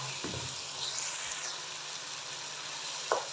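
Beef karahi masala with tomatoes fries in a karahi with a steady low hiss, a couple of faint stirs and a brief clink near the end, close and without talk.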